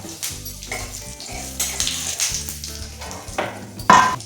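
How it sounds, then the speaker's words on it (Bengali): Cumin and dried red chillies fry in oil with an uneven, close crackling sizzle, stirred in bursts, and one sharper clatter near the end. "জিরে শুকনো লঙ্কা ভাজা হয়ে গেছে,"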